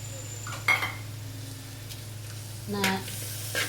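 Crushed green chilies dropped into onions frying in a pot for biryani, giving a steady sizzle with a couple of bright clinking stirs of a spoon against the pan.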